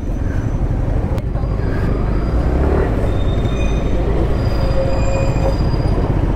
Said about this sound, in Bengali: দেখো রংটংয়ের সামনে টয় ট্রেন দেখতে পেলাম